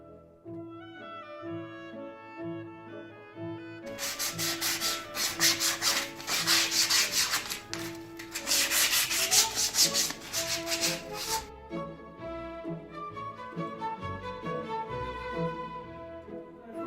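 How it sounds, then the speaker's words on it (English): Sandpaper is rubbed back and forth over a wooden nest box to smooth off splinters, giving a rapid series of close, rasping strokes in the middle. Tonal music plays throughout and stands alone before and after. "We can use the sandpaper to take off any splinters that are on your boxes"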